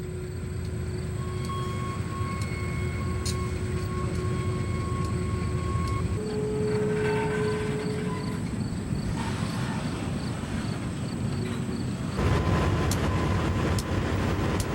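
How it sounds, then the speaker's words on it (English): Monongahela Railway freight train pulling out of a balloon track at a coal mine, a steady loud rumble of the diesel locomotive with sustained tonal engine whine and rolling cars, shifting in pitch as it moves. "Here, the train pulls out of the balloon track."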